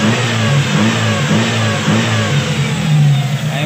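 A Toyota Lovelife with a 2E engine and a non-working idle-up runs continuously close by, its loud exhaust droning with small rises and dips in revs, and no voices over it.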